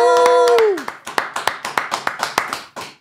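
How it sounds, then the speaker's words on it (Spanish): A sustained musical tone fades out and gives way to a dozen or so separate, crisp claps in a loose, steady rhythm, sounding like a small group of hands at an entertainment interview event. "un fuerte aplauso a Memín Calidad y Bubitanga"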